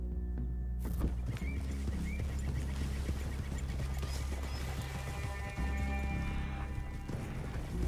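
Horses walking in the video game Red Dead Redemption 2: soft, steady hoof clip-clops amid a dense low outdoor ambience with faint background sounds, fairly quiet and continuous.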